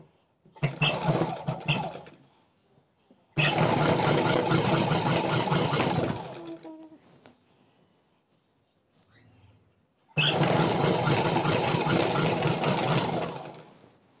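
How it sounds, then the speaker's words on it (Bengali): An electric sewing machine stitches the side seams of a round-collar-neck anarkali frock in three bursts of rapid whirring, the second and third long and steady, with quiet gaps between and no talk. "এবার আমি 2 ধার সেলাই করে নেব।"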